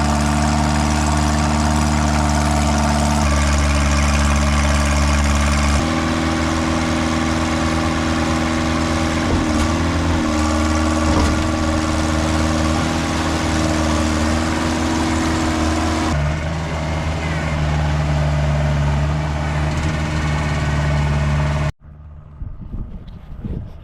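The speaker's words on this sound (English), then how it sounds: "Operating the harvester." An aquatic weed harvester on Lake Lawrence runs its engine continuously, a loud, close, steady low-pitched drone with shifting harmonic tones as the load changes, ending with an abrupt drop to quieter outdoor sound near the end.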